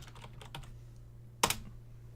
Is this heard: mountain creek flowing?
no